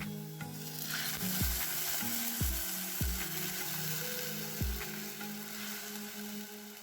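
Rice water poured into a hot cooking pot while making a tempered pumpkin-leaf dish, giving a steady close sizzle and hiss with a few sharp knocks of utensils against the pot.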